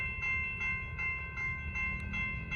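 A southbound Norfolk Southern freight train, loud and close, with steady rumbling and rolling noise under a sustained, chord-like horn that pulses several times, and no talking.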